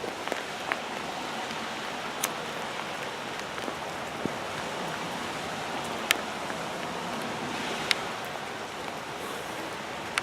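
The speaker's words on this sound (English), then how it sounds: "Now it is raining in on me" Evening rain falls outdoors around a man, a soft, even patter with occasional sharper drops close by, and no voices.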